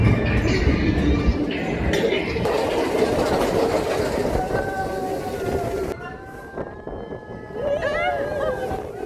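Rumbling Seven Dwarfs Mine Train roller coaster at Magic Kingdom rolling along its track with rattling and clatter, voices and cheers rising over it, then a quieter stretch with a few distant shouts.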